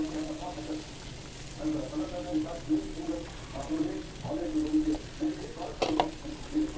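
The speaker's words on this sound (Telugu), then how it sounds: "డీప్ ఫ్రైకి సరిపడా ఆయిల్ హీట్ అవ్వగానే ఈ లెగ్ పీసెస్ లైన్గా యాడ్ చేసేసుకోండి" Chicken leg pieces deep frying in hot oil on a stove, giving a continuous bubbling sizzle under a voice speaking, with a brief clatter near the end.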